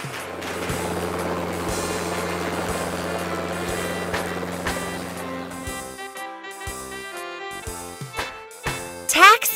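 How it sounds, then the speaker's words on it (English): A fire rescue helicopter's steady rotor thump and engine drone fill the first half, then give way to a clattering mechanical toy-like jumble of tones. "Fire rescue helicopter."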